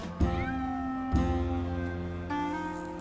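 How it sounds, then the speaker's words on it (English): A group of cats meowing in the video game Grim Fandango: several drawn-out, tonal meows start one after another and overlap, moderately loud, with no talk. "It's just a bunch of cats."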